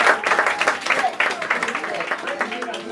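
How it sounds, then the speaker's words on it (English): A crowd at an outdoor community clean-up event claps, giving scattered, uneven clapping that mixes with a voice speaking over it and tails off toward the end. "give yourselves a big clap"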